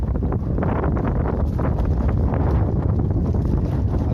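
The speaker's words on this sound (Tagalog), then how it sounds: "Iba na yung ihip ng hangin" Strong wind blowing over open sea on a small fishing boat in bad weather, a steady loud roar with constant microphone buffeting and no voices.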